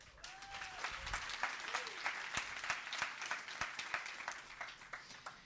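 Applause from the crowd at the opening of Muslim Tech Fest 2024, with individual claps standing out as sharp, uneven snaps over a fainter backdrop of hand-clapping, fairly quiet and distant overall.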